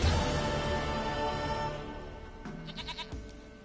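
A goat in The Witcher 3 bleats in a wavering, nasal cry that fades over a few seconds, set against a dense game soundscape, with no speech.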